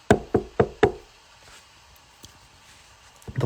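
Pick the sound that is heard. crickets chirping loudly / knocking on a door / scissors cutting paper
knocking on a door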